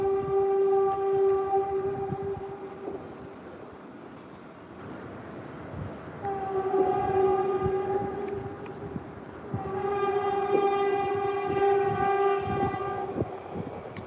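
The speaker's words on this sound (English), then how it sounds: "I don't know if you guys can hear that horn, but it's like a new train coming through here, or really close by." A train passes close by with its horn blaring in long sustained blasts, separated by a short gap, over a steady rumble of rolling wagons.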